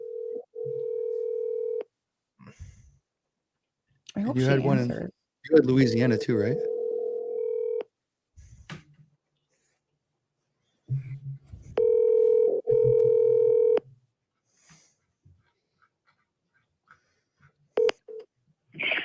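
A landline telephone gives a steady dial tone, then a run of touch-tone dialing beeps, with a second burst of tone and dialing later. Someone speaks briefly between the tones, and the call is ahead of a voicemail greeting.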